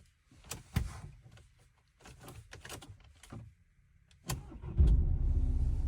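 A car is started with a freshly cut key: a few clicks and clunks of the key and switches, then the engine cranks and catches into a steady close idle near the end.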